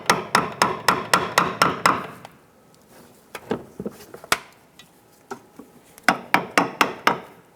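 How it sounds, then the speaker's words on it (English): Sharp plastic pops and clicks from a trim tool prying base inserts out of a 2008-2013 Nissan Rogue, arriving in two quick bursts of about eight snaps each with scattered single clicks between them, close and fairly loud. "Use your trim tool to pop out the base inserts here."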